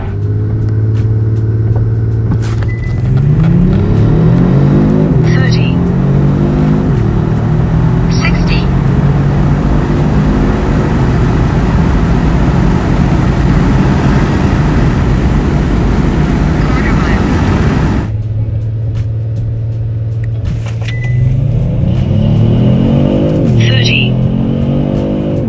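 A Kia Stinger fitted with an Injen cold air intake accelerates hard, a loud engine pull rising in pitch through gear changes, then easing and building again in a second run.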